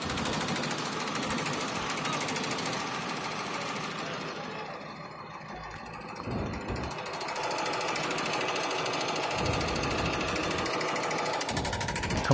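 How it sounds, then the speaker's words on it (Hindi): The hydraulic pump on a CAT 120K2 motor grader gives a harsh, continuous knocking rattle like an air compressor while the circle is raised, loud and close and steady throughout. "जैसे सर्कल हम उठाते हैं तो कंप्रेसर जैसे आवाज़ करता है पंप।"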